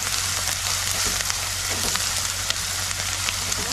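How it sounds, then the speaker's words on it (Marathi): Turmeric stirred into softened onions sautéing in a pan, a continuous close sizzle with soft stirring rustles and a low steady hum underneath. "हे बघ हळद पण अशी फिरवून घ्यायची आणि गॅस कमी करायचा"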